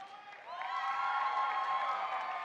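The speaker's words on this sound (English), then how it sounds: "Give a round of applause for Owen Hickey" An audience at a Delaware FFA association session claps in sustained applause for volunteer players, a dense crowd patter that swells after the first half second and holds steady, moderately loud and from across a hall.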